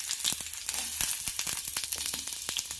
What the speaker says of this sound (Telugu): ఆయిల్ కొంచెము కాగిన తర్వాత మనము ముందుగా కట్ ఉన్నటువంటి ఆనియన్స్ వేసుకోవాలి